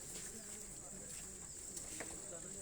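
A pigeon coos softly a few times, faint and low against a steady high hiss in a quiet setting.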